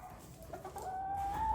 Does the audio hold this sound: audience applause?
no